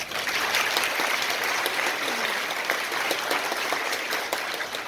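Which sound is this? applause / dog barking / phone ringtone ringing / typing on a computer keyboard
applause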